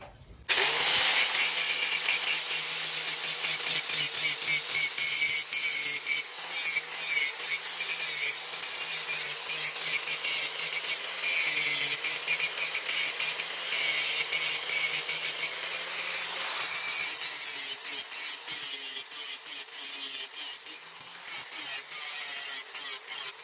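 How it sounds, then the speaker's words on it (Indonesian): A steel sickle edge held against an ordinary bench grinding stone gives a continuous, loud abrasive grind with a steady motor hum underneath, broken by brief pauses and shifts in pressure, with no talking. "mari kita lihat proses penggerindaan ya, atau penajaman"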